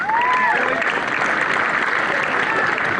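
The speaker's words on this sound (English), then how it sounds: "Now let's give them one more round of applause" Full, loud applause from a crowd honoring a women's football team after a Nike FC Cup match, Box Hill United versus Calder United in Melbourne, a continuous wash of clapping with a few voices and whistles layered in.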